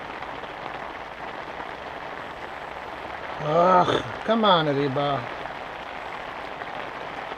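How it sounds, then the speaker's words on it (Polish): Heavy downpour drumming as a steady wash of noise outdoors by an ice-fishing spot, with a voice speaking briefly over it partway through. "Jest ulewa, normalna ulewa,"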